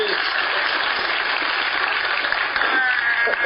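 A studio audience applauds as Hillary Clinton opens a jar on a late-night talk show with Jimmy Kimmel; broad, sustained clapping runs continuously and fairly loud, with a faint tonal sound near the end.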